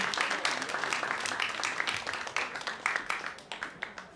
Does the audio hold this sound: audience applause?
yes